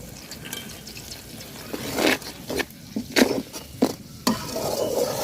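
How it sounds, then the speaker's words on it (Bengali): Spices, garlic and turmeric sizzle in hot oil in a pan while a spoon stirs and scrapes in several sharp, irregular strokes, close up over a soft, constant frying hiss. "তো মশলাটা আমি সুন্দর করে কষায় নিচ্ছি।"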